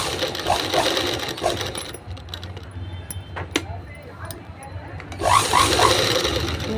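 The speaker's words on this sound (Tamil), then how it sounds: "பெடல் மிஷினுக்கு வந்தது, ரிவர்ஸில் போய் லாக் ஆயிடுச்சு" A pedal sewing machine running in bursts, a rapid mechanical whir that stops for a few seconds and starts again, heard close with a person talking over it.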